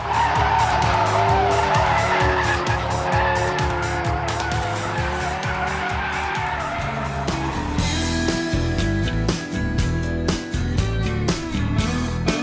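A 2016 Ford Focus RS drifting in drift mode, its tires squealing and skidding continuously over a roaring engine, loud and close throughout.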